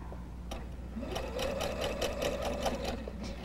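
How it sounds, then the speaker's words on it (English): A sewing machine stitches a seam on a double wedding ring quilt, a steady close mechanical whir that runs throughout with a rapid needle rhythm and no voices. "And try to avoid sewing over any pins."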